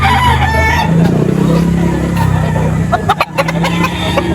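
A Kanawain gamecock rooster crows once, clear and fairly close, at a rooster sale in Lipa, Batangas. Traffic rumbles faintly behind it.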